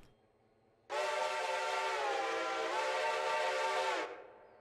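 A handmade railroad steam whistle sounds one loud, steady, chordlike blast lasting about three seconds, starting abruptly and tapering off quickly, alone over a quiet background.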